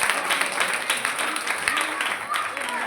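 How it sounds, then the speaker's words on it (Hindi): Audience clapping at a Shrimad Bhagavat Katha gathering in Sector 17, Panchkula, steady hand-claps filling the space with a voice speaking over them. "जोरदार ताली बीरम जी के लिए"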